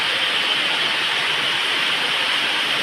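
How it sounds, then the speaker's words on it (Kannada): Heavy rain pouring down outside a home, a dense, even, continuous rushing hiss with no breaks and no voices. "ಈಗ ಪುನಃ ಮಳೆ ಸ್ಟಾರ್ಟ್ ಆಗಿದೆ"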